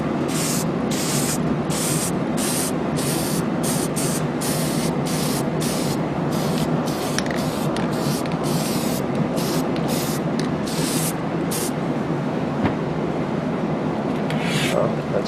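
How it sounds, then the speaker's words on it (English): An aerosol spray can hisses in rapid bursts, close and loud, as it coats a part of a ZX7R motorcycle, followed by a longer continuous spray. "You just want to shake it pretty good, and hopefully the spray is not too messy."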